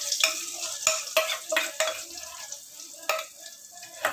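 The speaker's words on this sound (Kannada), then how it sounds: "ಇದು ಸ್ವಲ್ಪ ಫ್ರೈ ಆಗಲಿ।" Chana masala spice paste fries in a pan with mustard seeds, cumin, a cinnamon stick and a bay leaf, a steady close sizzle broken by repeated scraping strokes of a stirring spoon.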